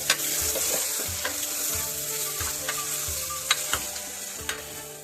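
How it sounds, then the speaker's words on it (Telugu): Mutton curry frying over a medium flame, a steady bright sizzle with periodic scraping stirs of a spoon against the pan every second or so, close and continuous with no talking. "మనం మిక్స్ చేసుకున్న మటన్ అయితే ఇందులో వేసుకొని ఒక 10 మినిట్స్ అలాగే కుక్ చేసుకోవాలి"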